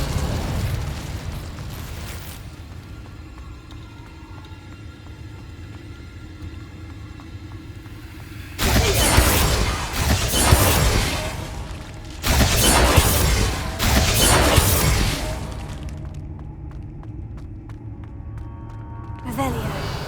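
Spell blasts from the Hogwarts Legacy video game, including the Confringo fire curse, come as a few loud, broad bursts in quick succession over a steady background of game sound.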